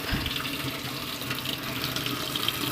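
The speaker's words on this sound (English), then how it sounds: "You can wash your utensils out here." Water runs steadily from an outdoor tap in a countryside setting while utensils are washed, a continuous close gushing splash with no talking.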